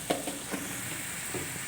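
Chicken pieces frying in a pan over softened tomatoes and onions, with a few stirring scrapes and a steady low sizzle heard up close without talk.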